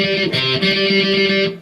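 Distorted electric guitar picking single notes of a Christmas song chorus, with a loud, steady, effects-heavy tone that rings for under two seconds and then fades, with no talking.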